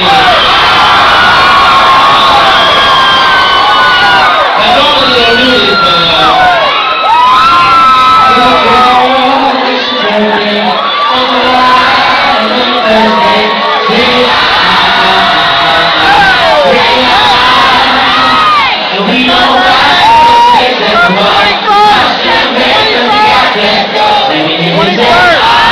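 A large concert crowd roars nonstop, with cheering, whoops and scattered shouts layered into a dense, loud wall of noise lasting the whole stretch.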